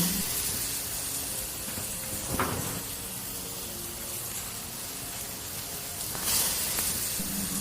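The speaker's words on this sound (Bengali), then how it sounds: "ওই একই তেলে ডুমো করে কেটে রাখা আলু দিয়ে ভেজে নেব।" Diced potatoes frying in hot oil give a steady close sizzling hiss, with a couple of brief louder crackling surges as the pieces shift in the pan.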